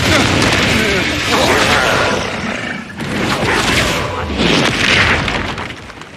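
Confringo spell blasts in the Hogwarts Legacy video game, heavy booming explosions that roar and fade in a few loud bursts, with a voice speaking over the combat.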